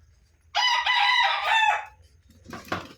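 A rooster crows loudly once, a long harmonic call, followed by a short burst of clucking from nearby chickens over a low background hum.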